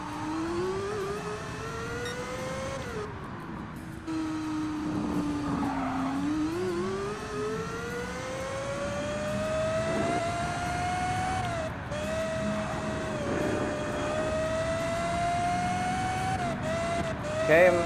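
Racing car engine in the Gran Turismo Sport video game, a sustained engine drone rising and falling through gear changes, with tire noise and a player's voice talking over it.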